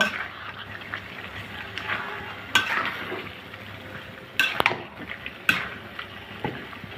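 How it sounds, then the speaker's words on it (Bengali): Broiler chicken and chickpeas being stirred together in a cooking pot, with a scraping spoon, low simmering sizzle and several sharp metallic clanks against the pot. "এখন আমি মাংসর সাথে ভালো করে বুটটা মিশিয়ে নিব"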